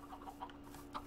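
Rooster clucking in the Minecraft TerraFirmaPunk modpack, a few short, quiet game-sound clucks in quick succession with no talk.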